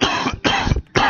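A character in the video game Oceanhorn: Monster of Uncharted Seas coughs from dust after opening a chest, three quick harsh coughs close and loud.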